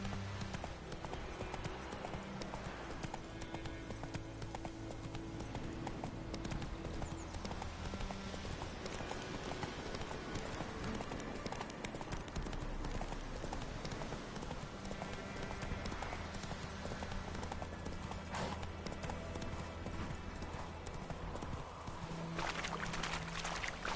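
The horse Roach's hooves in The Witcher 3 clip-clop in a steady trotting rhythm, moderately faint beneath sustained game music and ambience.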